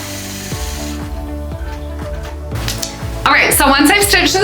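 A quilting machine stitches a wavy feather spine across a quilt, making a steady mechanical hum with evenly spaced rhythmic thumps. Someone talks near the end as the sound grows louder.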